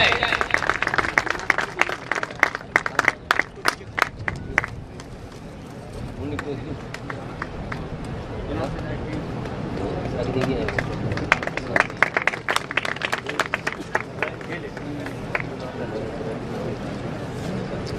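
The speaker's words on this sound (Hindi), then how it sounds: "सभी जोरदार से तालियां बजाएं।" Crowd applause at the opening ceremony of a BioCoal factory, starting as sharp, loud clapping that thins out and then returns in patches, with someone talking over a PA system across much of it.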